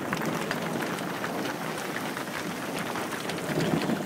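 Heavy rain pours down steadily during a spring thunderstorm with slush in a canyon, a dense, close hiss of drops on surfaces with a low rumble beneath and no voices.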